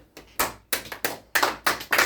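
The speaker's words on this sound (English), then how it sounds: "Let's give her a round of applause while she leaves the table." Players around a Mafia game table clap in a short round of applause, sharp distinct claps in an uneven rhythm, close and fairly loud with no talking.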